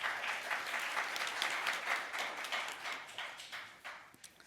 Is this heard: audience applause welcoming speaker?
yes